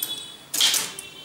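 A short, sharp burst of keyboard keystrokes sounds around the middle of a Tamil typing exercise, surrounded by quiet room tone with no voices.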